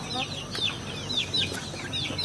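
Backyard free-range native chickens and a Rhode Island hen clucking close by, a repeated series of short squawky calls over a steady background hum, with faint talking underneath.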